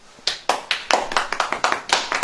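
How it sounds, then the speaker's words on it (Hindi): An audience claps together during a church sermon: a steady run of sharp, close hand claps with a loose, uneven rhythm over about two seconds, with no talking. "ताली बजाइए"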